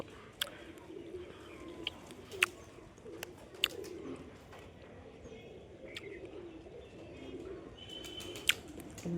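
Pigeons coo softly in low, repeated murmurs while scattered sharp chirps and faint wing flutters break in now and then, with no voices.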